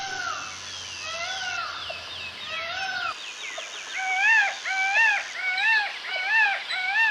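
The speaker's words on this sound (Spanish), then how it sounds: "Pavo real" A peacock calling: a series of loud, close, wavering nasal cries that repeat in a quick rhythm and grow stronger toward the end, heard alone without any talking.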